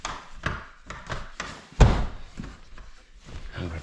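A frozen car door is forced open in Maine winter, a series of knocks and thumps building to one loud jarring slam-like crack, then quieter taps and scraping.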